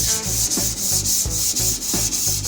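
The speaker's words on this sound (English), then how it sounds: "Sand this down. Into a smooth finish right there." Hand sanding scrubs across a Mazda Miata door panel to knock down orange peel, close and loud, in steady rhythmic back-and-forth strokes about four per second, with no voices.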